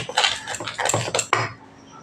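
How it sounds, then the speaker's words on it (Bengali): Semolina batter being mixed with milk in a bowl, close soft clinks and scrapes of a utensil against the bowl in quick uneven strokes, then a brief fade to quiet. "খুব ভালো করে সুজির সঙ্গে মিশিয়ে নেব।"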